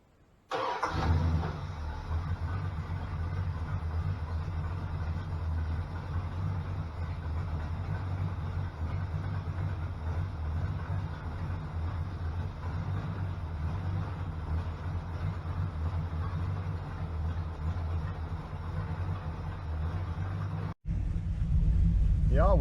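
A Dodge Coronet with an Edelbrock-equipped small-block V8 fires up and settles into a loud, steady rumbling idle in a garage, running continuously close to the microphone before a sudden brief cutoff near the end.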